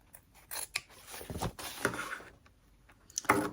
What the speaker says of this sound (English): So we're just gonna trim down the extra foam.